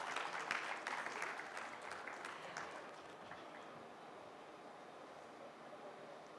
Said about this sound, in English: Can we have those claps,